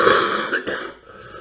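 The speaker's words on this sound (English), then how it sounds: "still coughing." A short burst of throat clearing and coughing, close and fairly loud, fading into quieter breathy noise.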